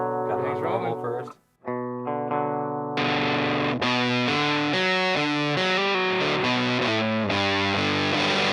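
Electric guitar played through a newly built guitar pedal, giving a distorted, effected tone. A brief picked phrase and pause lead into louder sustained chords, close and continuous, with voices speaking underneath.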